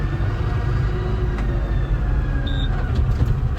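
A Kubota M110X tractor drives slowly with its diesel engine running, a steady low rumble and droning hum close by with faint squeaks and rattles on top.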